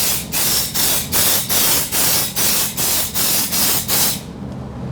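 Undercoating sprayed in short, even bursts onto the sheet metal underbody of a vehicle, about nine loud hissing blasts in a steady rhythm, each separated by a brief pause, with no talking.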